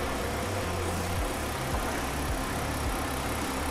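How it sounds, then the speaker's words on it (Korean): A Kia Opirus GH270 engine idles with the engine bay open, giving a loud, steady close-up hum with a low, even throb and faint mechanical ticking underneath. "엔진 소리 일정합니다"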